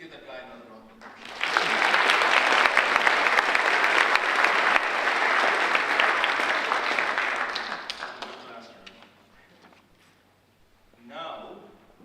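Audience applause at a student awards ceremony, a sustained round of clapping from a large crowd that swells quickly, holds steady for several seconds, then fades out before a brief voice at the end.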